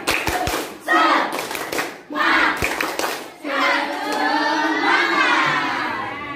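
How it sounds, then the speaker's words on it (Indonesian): A school class performs a rhythmic spirit clap, tepuk semangat: a few sharp synchronized hand claps interleaved with loud children's voices chanting together, close and energetic. "Satu, dua, tiga, tepuk semangat."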